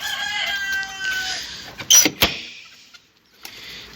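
A rooster crows once nearby in a henhouse, a long loud call, followed by a few sharp clucks and brief squawks, then quiet.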